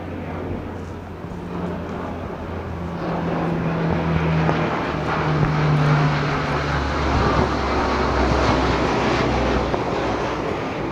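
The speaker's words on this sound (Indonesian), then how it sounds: "Di atas ada pesawat Hercules yang lewat" Deep engine drone of a Hercules military transport propeller plane passing overhead, swelling louder through the middle over a broad rumbling background.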